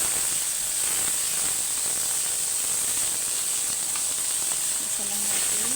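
Garlic, onion and tomato sizzling in a hot pan, a steady loud hiss throughout with faint clatter of stirring.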